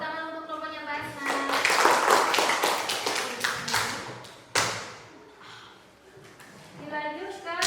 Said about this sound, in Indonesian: Tepuk tangan untuk kelompoknya Mbak Asna.